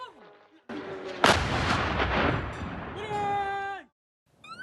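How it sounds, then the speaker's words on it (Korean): Loud blast from an explosive-laden drone strike on a village on Israel's border with Lebanon, a sudden broadband boom that rumbles for about two seconds, followed by a rising-falling siren-like wail and a brief quieter tail. "레바논과 국경을 맞댄 이스라엘의 한 마을에 갑자기 굉음이 들립니다."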